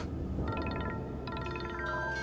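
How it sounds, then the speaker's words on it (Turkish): A telephone rings in repeated electronic trills over a low background hum. "Telefon çalıyor."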